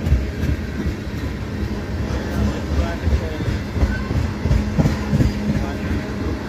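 A CSX freight train of tank cars rolls past at night, a steady rumbling rattle of wheels and couplings with faint rhythmic clacks and no clear breaks.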